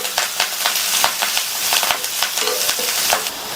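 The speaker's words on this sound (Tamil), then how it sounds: "அடுத்து கறிவேப்பிலை சேர்த்து இந்த வெங்காயம் லைட்டா ஒரே 1 நிமிஷத்துக்கு மட்டும் வதக்கிக்கலாம்." Chopped onion and curry leaves sautéing in hot oil in a pan for a snake gourd side dish, a steady close crackling sizzle with frequent stirring scrapes and pops throughout, no voices.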